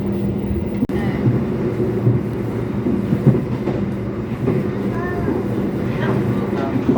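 Argo Wilis passenger train, heard from on board as it arrives at Kertosono station: a continuous steady rumble with faint wheel clatter and brief higher squeals, with no talk over it.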